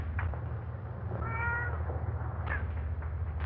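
Cats meowing in an old 1934 black-and-white film soundtrack, a couple of short mews rising over a hissy, humming background, with no speech.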